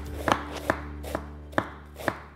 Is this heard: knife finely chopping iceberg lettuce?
yes